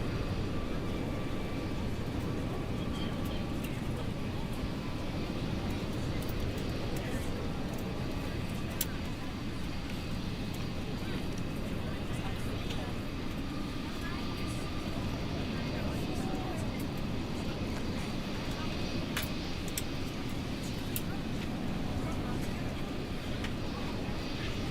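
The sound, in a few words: Airbus A320neo taking off, video game Microsoft Flight Simulator 2024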